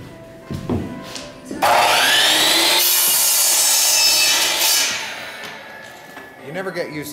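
Wood being sawn in a theatre workshop during renovation of a performance space: a loud, sustained saw run of about three seconds that tails off, with quieter workshop noise before and after and brief speech near the end.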